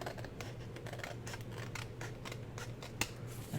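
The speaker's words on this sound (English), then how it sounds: "I'm going to use my scissors" Scissors snip through paper while making a craft writing board, a run of quick close cuts repeating steadily over a few seconds, with no talking.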